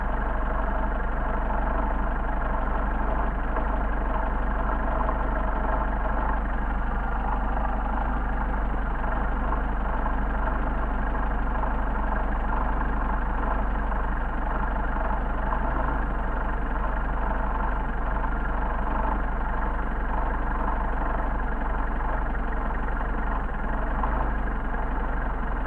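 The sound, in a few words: Mercedes 190SL engine idling during Solex carburetor adjustment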